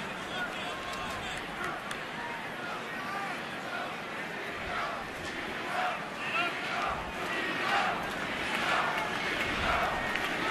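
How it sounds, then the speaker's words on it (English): A baseball crowd at a cold April game between Miami and Washington hollers and cheers for pitcher Gio Gonzalez, a sustained distant roar of many voices rising and falling, with talk over it. "Hard to clap in this weather, so they're hollering Gio."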